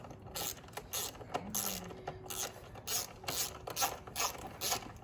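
A hand ratchet tightens a bolt on the air filter housing of a Kubota KX112 excavator, producing repeated bursts of close, clicking pawl ratcheting with short pauses between strokes.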